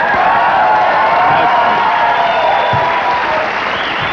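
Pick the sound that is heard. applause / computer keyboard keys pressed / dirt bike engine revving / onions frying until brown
applause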